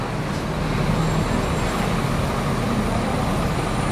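An ANS long-distance bus pulls out of the Pondok Pinang Lebak Bulus terminal, bound for Ranah Minang, as a steady, loud engine and road rumble fills the air with no break or rise throughout.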